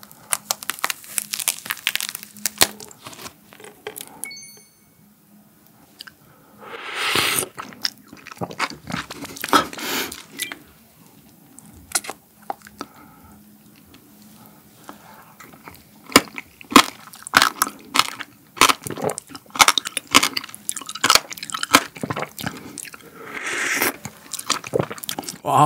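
Passion fruit seeds crunch close to the mic in irregular crisp bites and chews, with crinkly bursts between stretches of near-quiet, all without any talking.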